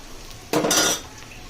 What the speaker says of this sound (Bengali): ডালটা এই যে বাগার দিয়ে দিচ্ছি